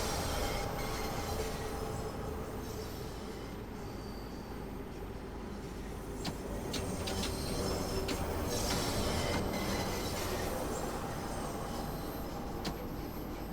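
London Underground Bakerloo Line Tube train in a train simulator, running uphill toward Oxford Circus under light traction: a steady, loud rumble of wheels and motors with occasional squeals and clicks throughout.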